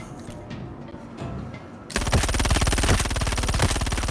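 Rapid automatic gunfire in a shooter video game, starting abruptly after a couple of seconds of quieter background and continuing as a loud, dense burst of evenly spaced shots.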